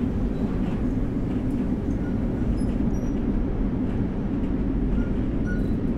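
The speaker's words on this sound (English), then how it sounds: "That means we're gonna have to slow the train down." A Long Island Rail Road commuter train in Train Sim World 4 slows on an incline, its low, steady rumble and rail noise filling the cabin continuously, with faint beeps of cab signals over the top.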